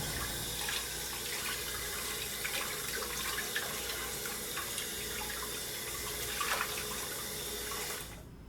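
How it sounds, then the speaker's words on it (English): Warm water runs steadily from a bathroom tap for about eight seconds as cleanser is rinsed off a face, a continuous close splashing with small irregular spatters, then it cuts off abruptly at the end. "You should remove the cleanser with warm water."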